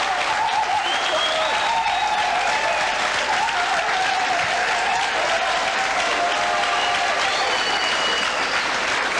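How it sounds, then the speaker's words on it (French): A studio audience applauds on a French television show, a dense, steady wash of clapping that runs unbroken throughout, with faint voices underneath. "Quel succès pour qui tous ces applaudissements?"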